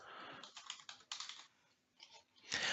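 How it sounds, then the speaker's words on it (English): Bursts of computer keyboard typing while answers are entered into an online form, clattering in several short runs separated by pauses, with a denser flurry at the end; close and fairly quiet, with no voices. "I can then start to type out my answers"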